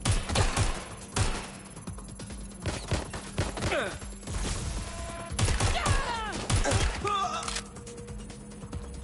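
Repeated bursts of gunfire in the Watch Dogs Legion video game, loud and close, with sharp cracks and rattling volleys spread across the clip and occasional speech in between.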